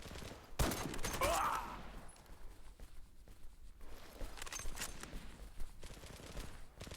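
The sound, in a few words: gunfire in the video game Zula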